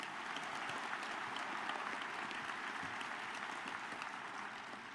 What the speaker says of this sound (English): round of applause for Mark Johnson